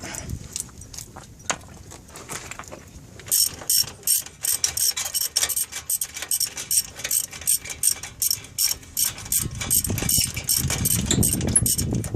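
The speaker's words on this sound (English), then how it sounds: "So all we gotta do now is remove our bolts and pull it straight out" A ratchet clicks rapidly and rhythmically in bursts as ball joint bolts come off a Dodge 2500 4x4 truck, close and loud, with a clank and scraping of the part near the end.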